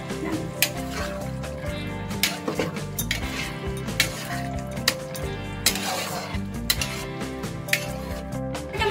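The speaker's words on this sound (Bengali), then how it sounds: "এবার নামাবার আগে আমি এর মধ্যে দিয়ে দিচ্ছি একটু ঘি, দিয়ে আমি ভালো করে নাড়িয়ে" A spoon stirs paneer masala with added ghee in a pan, giving repeated sharp metallic clinks and scrapes in an irregular rhythm over soft frying and a tonal musical background.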